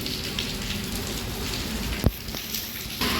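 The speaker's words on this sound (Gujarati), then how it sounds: "પાછું પાડો નથી નીકળ્યા ને વરસાદ ચાલુ થઈ ગયો" Rain patters on a surface in a soft, steady hiss, with one sharp knock partway through.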